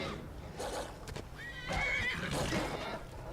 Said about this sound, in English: Ah, it's wolves attacking a horse.